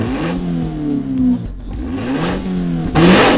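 A TOM'S Racing Toyota GR86 with an aftermarket exhaust revs in quick, sharp bursts, the engine note rising and falling several times, loud and close.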